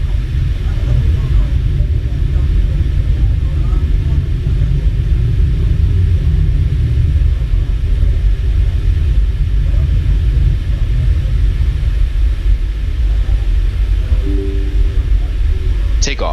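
A simulated airliner's engines roar during the takeoff roll in Microsoft Flight Simulator, a loud, steady low rumble holding throughout with a brief faint voice toward the end.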